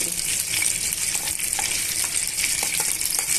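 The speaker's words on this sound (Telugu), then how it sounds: "హాఫ్ టేబుల్ స్పూన్ జీలకర్ర హాఫ్ టేబుల్ స్పూన్ మెంతులు ఇవన్నీ కూడా బాగా వేగనివ్వాలండి" Cumin and fenugreek seeds fry in hot oil in a pan, giving a steady, dense sizzle with light crackles and a few soft stirring scrapes, close by and with no talking.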